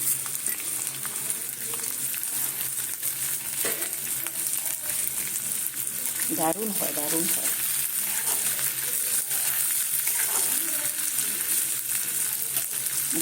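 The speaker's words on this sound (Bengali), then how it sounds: "পেঁয়াজটা অল্প ভাজা হয়েছে এইবারে দেব কাঁচা লঙ্কা" Onion, green chili and five-spice (panch phoron with cumin and fennel) fry in hot oil with a steady, close hiss and occasional stirring clinks, while someone speaks briefly over the sizzle.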